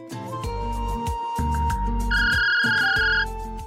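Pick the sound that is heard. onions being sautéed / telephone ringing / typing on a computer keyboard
telephone ringing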